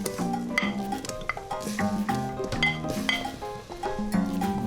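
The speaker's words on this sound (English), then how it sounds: "Spread it out a little bit with a spoon" A spoon spreading food processor mix in a paella pan, soft repeated scrapes and taps against the metal over a low background hum, close and steady.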